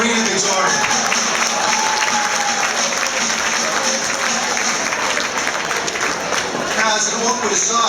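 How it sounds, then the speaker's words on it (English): A dinner roast audience gives a full round of applause, loud and sustained dense clapping filling the room from start to finish, with some crowd voices mixed in. "Let's have a round of applause for Maureen and Victoria."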